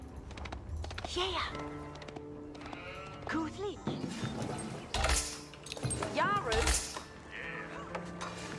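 Sheep bleat several times in Age of Empires IV, mixed with game effects under steady talk.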